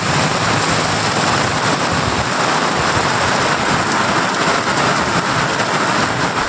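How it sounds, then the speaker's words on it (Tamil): Heavy summer rain pours steadily during a thunderstorm in Tamil Nadu, a dense, continuous hiss of downpour on surfaces with no talking and no distinct thunderclap. "சுமார் 1 மணி நேரத்திற்கு மேலாக பெய்த இடியுடன் கூடிய கனமழையால் சாலைகளில் வெள்ள நீர் பெருக்கெடுத்து ஓடியது"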